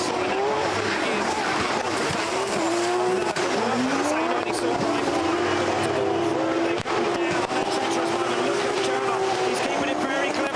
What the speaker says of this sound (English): sliding that car through the gears